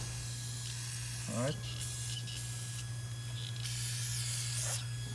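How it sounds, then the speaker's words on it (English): Penetrating fluid sprayed from an aerosol can onto a 17 mm bolt on a Hyundai Tucson, heard as several short hissing bursts over a steady low hum, with a brief spoken word partway through. "let me just spray some penetrating fluid."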